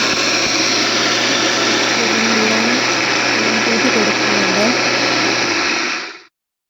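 Kitchen mixer grinder whirring steadily in its jar, a loud, continuous motorized roar close by that runs unbroken for about six seconds and then cuts off abruptly.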